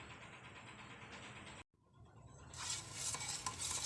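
Red Boysen metal paint is stirred in its can, a soft continuous swishing and scraping that cuts out briefly, then resumes louder and brighter, close and quiet with no voices.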